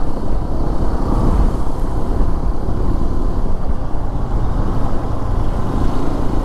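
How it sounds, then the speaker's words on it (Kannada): A new Hero XPulse 210 motorcycle engine runs with a loud, close, steady rumble that holds constant throughout with no voices. "ಇಂಜಿನ್ ಸ್ಟಾರ್ಟ್ ಆಯಿತು"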